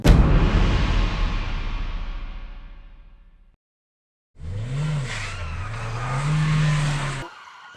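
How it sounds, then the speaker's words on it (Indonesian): A car chasing someone roars past with a loud, fading engine rush, then after a brief silence returns with rising and falling revving and tire squeal, close and aggressive. "Tuh mobil masih ngejar-ngejar aku."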